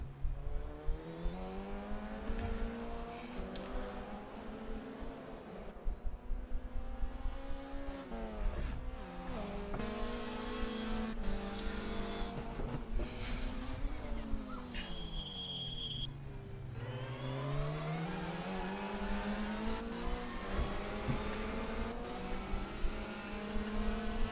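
Touring cars race at the Turagua track in a sim racing series, their engines droning and rising and falling in pitch through gear shifts as cars pass close by, loud and continuous throughout.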